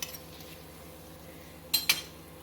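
Cutlery clinks twice against a plate while crunchy butter jam toast is served, two quick close metallic taps standing out against a quiet room.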